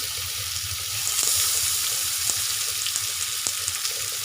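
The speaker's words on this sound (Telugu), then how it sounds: "ఇలా ఒక్కొక్కటి ఒక్కొక్కటిగా ప్యాన్ పై పెట్టుకోవాలి" Marinated fish pieces, coated with salt, chilli, turmeric and masala, are laid one by one into a hot pan for shallow frying. They give a steady oily sizzle with a few small clicks and pops as each piece goes in.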